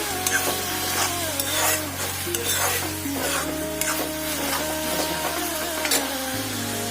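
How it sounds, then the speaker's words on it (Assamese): Shredded cabbage and egg stir-fry in a pan with cumin and coriander powder, a steady sizzle broken by frequent scraping and tapping of a spatula as the food is tossed, with a low appliance hum underneath. "অলপ সময় এনেকৈ আমি মাজে মাজে এনে লৰাই ভাজি থাকিম"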